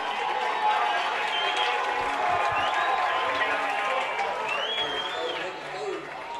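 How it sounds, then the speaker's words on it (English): A football stadium crowd at a Philadelphia city all-star game roars and cheers after the final play, a broad sustained wash of distant voices with occasional whistles, while a commentator talks over it. "So the Public League wins for the second time in 3 years, and listen to the crowd."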